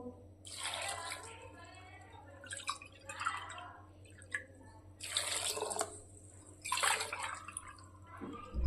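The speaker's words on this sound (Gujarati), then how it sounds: "આપણે સામે ત્રણ વાટકી પાણી નાખીશું" Water is poured from bowls into a pot of khichdi in three separate bursts, each a close splashing gush of a second or so separated by quiet pauses, with a faint fourth pour starting at the end.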